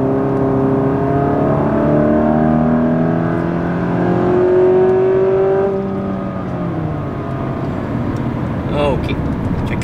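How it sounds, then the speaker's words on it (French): A Dodge Dart with a loud aftermarket intake accelerates, heard from inside the cabin as a steady engine drone whose pitch climbs and then eases off, with a voice talking over it. "je vais faire une petite accélération. Vous allez voir un petit peu le son que ça fait en dedans."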